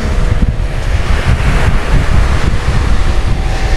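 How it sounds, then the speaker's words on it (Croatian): Sea waves washing over shallow water at Vrasna beach in Greece, a steady close rush of surf mixed with wind buffeting the microphone, continuous throughout with no voices. "Meni nešto sad tu posebno talasi ne smetaju zato što sam ja tu u plićaku."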